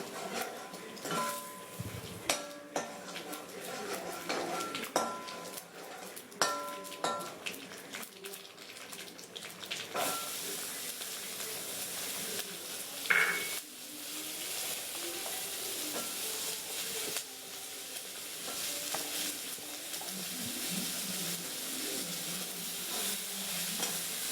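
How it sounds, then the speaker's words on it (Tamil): Onions sizzle steadily in a hot frying pan while a utensil stirs and scrapes, close by, with occasional clinks and a soft running-water sound. "நறுக்கி வச்சிருந்த வெங்காயத்தையும் அதில் போட்டு வணக்குங்க"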